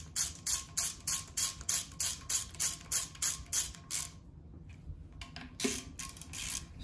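A ratchet tightens bolts on a Honda K-series engine oil pump, giving a rapid, even run of close clicking strokes that pauses briefly and then resumes.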